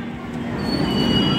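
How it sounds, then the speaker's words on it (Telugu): A long-distance train running from Tirupati to Rameshwaram rumbles close by with a thin, sustained wheel squeal over a steady rolling roar. "అంత లాంగ్ రేంజ్ ట్రైన్."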